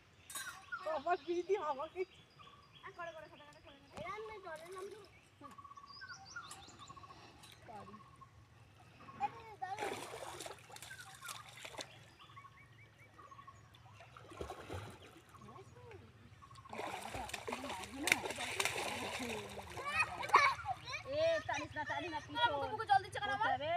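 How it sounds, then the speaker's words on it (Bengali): Children swim and splash in water, with scattered splashes and bursts of thrashing, loudest near the end, under frequent excited children's voices and adult talk. "নে সাঁতার কাট একটু, দেখি কে পারিস।"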